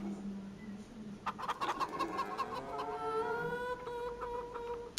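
Chickens cluck and squawk on a farm in the video game Farming Simulator 25, several rising calls overlapping, fairly close and clear with no talking.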